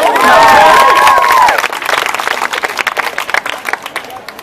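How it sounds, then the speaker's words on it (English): Outdoor crowd at a street comedy and trick performance in Southbank, Brisbane, breaking into clapping and cheering after a loud shout, the applause choppy and lively before thinning out. "Big clap!"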